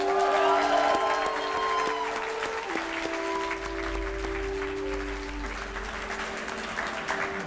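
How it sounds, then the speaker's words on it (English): Wedding guests applaud the bride and groom with sustained clapping and a few cheers, a steady crowd sound lasting several seconds over a low hum and faint background tones. "please put a big round of applause together for our bride and groom, Andrew and Majenka."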